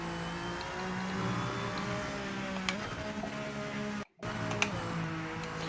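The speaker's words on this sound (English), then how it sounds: "This car sounds so weird. Downshifts are like a motorbike." Game car engine from Project Motor Racing (PMR) droning steadily with harmonic revs, brief cut near the four-second mark then rev-matching blips on downshifts, giving a buzzy motorbike-like whine; no talk.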